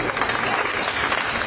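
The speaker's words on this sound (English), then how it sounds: "Please give her a round of applause." A crowd applauds a guide dog handler at a White Cane Day event, with steady, dense clapping throughout that fills the whole short stretch.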